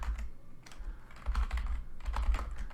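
Computer keyboard keys tapped in quick bursts, close and fairly quiet, with short pauses between runs of typing while a new password is entered.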